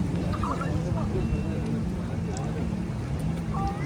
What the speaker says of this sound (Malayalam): നമ്മുടെ പുറകെ ഒരു ബോട്ട് വന്നാണ്ടോ ഇങ്ങനെ പോകും